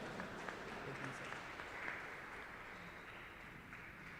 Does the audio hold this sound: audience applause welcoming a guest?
yes